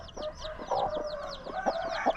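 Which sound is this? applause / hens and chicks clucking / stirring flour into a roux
hens and chicks clucking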